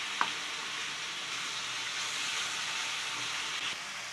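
Kasi halwa cooks in ghee in a pan and is stirred, giving a steady, soft frying sizzle with a faint hiss throughout. A small utensil clink sounds near the start, and no voices are heard.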